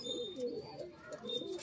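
Faint, soft cooing from a pair of pigeons rises and falls in a short run of repeated phrases, heard quietly at a distance.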